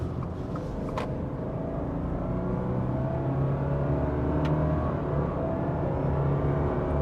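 A 2026 Subaru Crosstrek Wilderness hybrid pulls away at half throttle, its steady low engine and road rumble building evenly under a faint electric whir, heard from inside the cabin with no talking.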